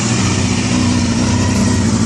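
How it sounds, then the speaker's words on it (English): A Honda CBR250 motorcycle engine idles close by, a steady, even low rumble with no changes in pitch and no talking. "That's it idling."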